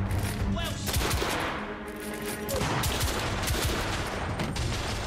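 Rapid gunfire fills a battle scene in The Order 1886 video game, sustained bursts of shots and machine-gun fire running loud and continuous throughout.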